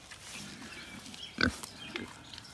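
A big pig on a farmstead gives a single short grunt near the middle, moderately close, over faint outdoor background noise, with a smaller sound shortly after.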